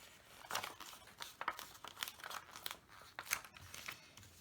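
Paper being folded and creased by hand for a pop-up Mother's Day thank-you card, giving a string of close, crisp crinkling and rustling bursts at an uneven rhythm.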